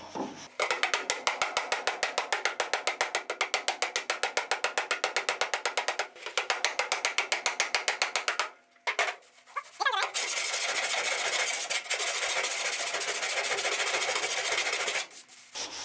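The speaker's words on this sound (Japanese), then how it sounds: "極力鉄板伸ばさないようにヤスリハンマーでいきます。" Rapid metallic tapping of a file hammer on a dented steel body panel of a Mazda RX-7 FD3S, fast steady bursts for about eight seconds, then a pause and a duller rasping stretch.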